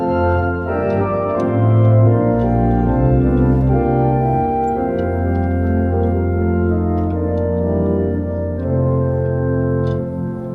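Full, sustained pipe organ chords from 8-foot and 4-foot flute stops combined, steady and resonant, shifting slowly through several harmonies with a deep bass note beneath.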